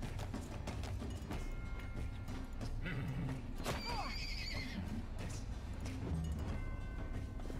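Horses whinny and neigh amid a busy soundscape in the video game Wartales, with clip-clopping hooves and clanking mechanisms underneath, fairly steady and mid-distance.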